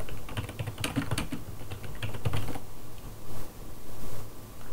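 Typing on a computer keyboard while entering text into a Microsoft Access input form, with bursts of close, rapid key clicks giving way to quieter, sparser tapping.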